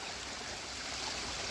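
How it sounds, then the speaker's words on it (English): A little stream flows beside a railroad line, giving a soft, continuous watery rush at low level, steady and alone throughout. "we can see this little stream."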